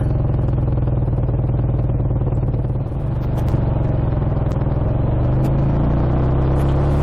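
A BSA A65 motorcycle with a misbehaving clutch, ridden through traffic, gives a loud, steady engine drone with low rumble and mechanical clatter that holds without a break, with no talking.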